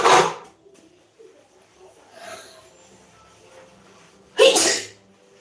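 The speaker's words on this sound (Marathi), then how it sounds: "पाण्यात हात घातला का नुसता शिंकाच येतात" Two sharp sneezes, one at the start and one near the end, with faint rustling and a brief murmur in between.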